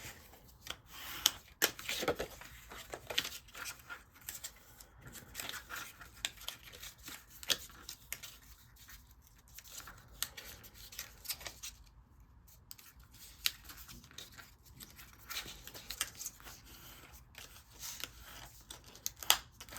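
Scissors snip along the edges of a card gift box, giving a run of short crisp cuts with soft paper rustling and handling between them, close and fairly quiet.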